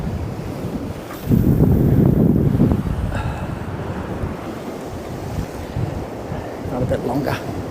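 Choppy sea waves wash against the Northumberland coast near Dunstanburgh Castle, a continuous close surf with a louder surge early on, and gusty wind buffets the microphone throughout.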